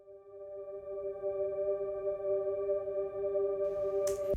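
A simple synth pad drenched in fully wet Valhalla Shimmer reverb holds a quiet, steady chord that shimmers faintly upward, ending in a brief bright noise burst, with no voices.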